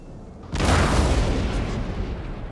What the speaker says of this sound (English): Cannon ready, sir.